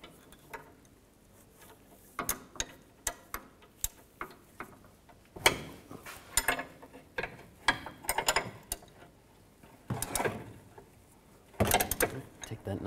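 An 18mm wrench loosens the sway bar link nut on a 2013-19 Nissan Sentra, giving irregular metallic ratcheting clicks and clanks in scattered bursts, close and fairly faint, with a person talking at times.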